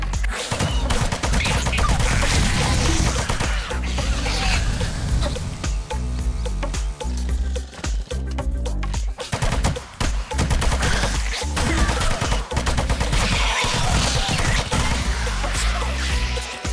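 Gunfire in 7 Days to Die, with rapid, continuous shots and bursts firing through a dense, loud soundscape across the whole stretch.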